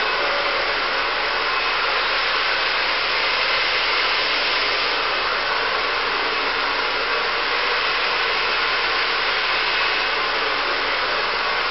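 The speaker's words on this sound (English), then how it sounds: "it's okay to go slower on your blow dry, ensuring that you get it dry from the scalp to the end" A hair dryer blowing hair dry from scalp to ends during a smoothing blowout, a loud, steady, close airy roar holding without a break throughout.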